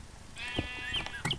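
A single Minecraft sheep bleats, a wavering nasal cry lasting about a second, heard fairly close over quiet background noise.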